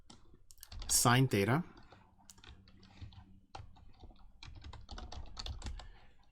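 Someone types equations on a computer keyboard, making a quick run of close, light key clicks. Someone speaks briefly near the start, and the typing continues alone after he stops.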